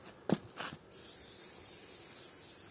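Two short hissing bursts from an aerosol can of impregnation spray on leather shoes, close by, followed by a longer continuous spray that hisses steadily to the end.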